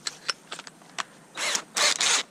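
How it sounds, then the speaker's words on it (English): A power drill bores a tap hole into a maple tree: a few sharp mechanical clicks, then two short whirring bursts of drilling, close and fairly loud, with no talk. "so we're going to put the drill bit in here"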